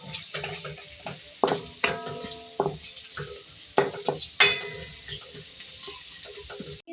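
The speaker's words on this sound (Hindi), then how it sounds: "अब तेल में ऐड करेंगे प्याज, फ्राई करेंगे 2 मीडियम साइज़ की।" Two medium onions frying in oil give a soft, low sizzle, broken by sharp metallic clinks and taps of a utensil against the pan at irregular intervals.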